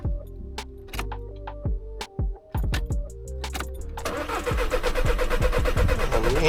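A Seat Ibiza 1.6 TDI diesel with an unprimed fuel filter cranks repeatedly without catching, starter whirring in short bursts, with clicks and key sounds, then a louder sustained churning toward the end, close and alone.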